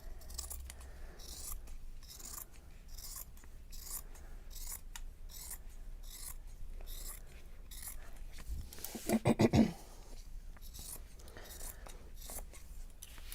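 Scissors snip across a t-shirt from one armpit to the other, cutting fabric into strips for crochet yarn; soft repeated rasping cuts run throughout, with a brief louder burst of snipping near the end, close and alone.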